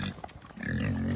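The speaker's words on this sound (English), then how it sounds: "What's up, pigs?" Pigs on a livestock farm give low grunts at morning feeding time, close and moderately loud, with several short snorts building into a denser run of grunting.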